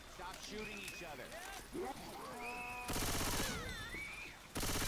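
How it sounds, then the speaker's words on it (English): Video-game gunfire from Left 4 Dead 2, with dense bursts of rapid automatic shots, loud and close, cutting in around the middle and at the end of the clip, under excited voices and the game's music. "Stop shooting each other."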